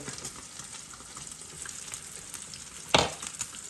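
Bacon sizzles and spits in a frying pan during a big breakfast cook, a steady crackling fry throughout with a sharper, louder burst of spatter near the end.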